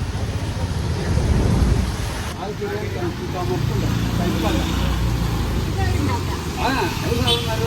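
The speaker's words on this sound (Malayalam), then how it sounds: "ഭയങ്കര മഴയും" Heavy rain with rumbling thunder, a loud, continuous low roar that swells early on and persists throughout, with passing traffic noise and some voices in the background.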